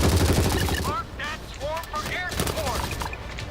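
Flare gun firing in the zombie shooter World War Z, heard as a loud burst of gunfire and explosive cracks at the start, followed by quieter game noise with voices talking over it.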